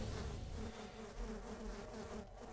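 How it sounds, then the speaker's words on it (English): A swarm of bees in the video game Sven Co-op buzzes loudly and continuously, a dense droning hum with no talk. "So many bees."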